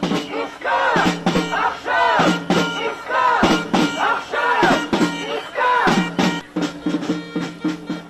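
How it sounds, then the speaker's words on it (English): A large protest crowd of thousands chants in rhythmic bursts in the streets of Tel Aviv, many voices shouting together in repeated slogans with short pauses between phrases. "That is the sound of thousands of protesters who turned out in the streets last night"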